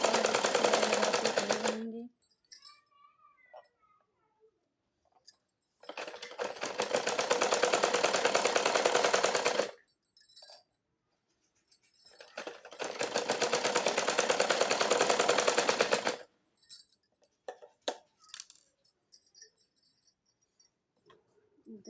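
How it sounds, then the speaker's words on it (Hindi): A sewing machine runs in three long bursts of stitching along blouse fabric, each several seconds long and separated by quiet pauses, loud and close, with faint handling noises between runs. "दूसरे तरफ भी इसी प्रकार हमें इस तरह से सिलाई लगा लेनी है।"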